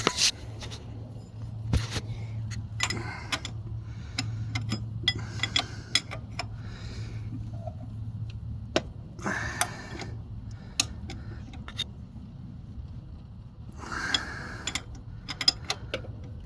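A wrench works on a transmission bolt in a garage, producing rapid ratcheting clicks in short bursts with pauses between, close and fairly quiet.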